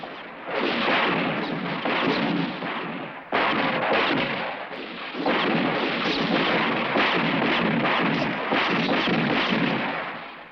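Heavy, continuous volleys of gunfire on a firing range, loud and close, with one short break before the dense roar of overlapping shots resumes and carries on for about ten seconds, no talking.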